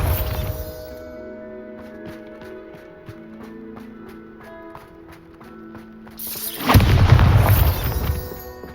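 A Bombarda spell explosion in Hogwarts Legacy erupts as a loud, sudden boom near the end, swelling into a broad rumbling blast after several seconds of quieter tonal game music and soft ambience.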